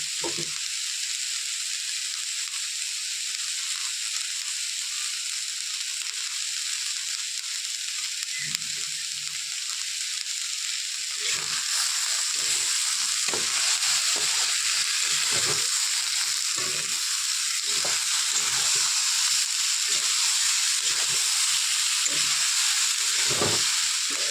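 Continuous frying sizzle from fenugreek greens in a pan, a steady hiss joined midway by a rhythmic series of stirring scrapes.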